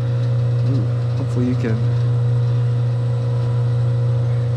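A band saw hums steadily with a strong, constant low drone and a faint higher whine, running alone with no cutting while a person speaks briefly over it.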